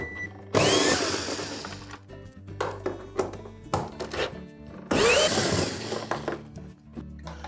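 Power drill backing bolts out of an LG washer tub during a spider assembly repair, two loud whining bursts of the drill, near, separated by softer clanks and metal handling.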